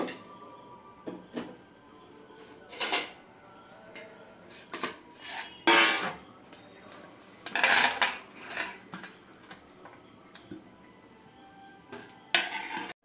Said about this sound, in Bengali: এই জলটা আমি 7 থেকে 8 বার চেঞ্জ করে করে আলুটা ভালোভাবে ধুয়ে নেব